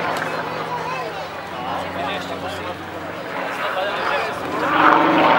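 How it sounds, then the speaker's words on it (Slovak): A Sukhoi Su-31 aerobatic plane performs at the SIAF 2016 air show, its steady propeller-engine drone holding throughout and swelling slightly near the end, with a commentator talking over it and crowd noise in the background. "s týmto lietadlom sa dajú skutočne stvárať neuveriteľné kúsky, je to teda akrobatické súčko 31"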